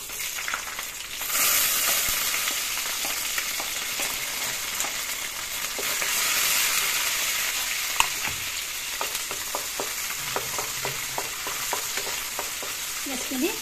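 Onions frying with cloves, cardamom and cinnamon in a pan for chicken curry, a steady close sizzle with scattered scraping stirs and clinks, no talking.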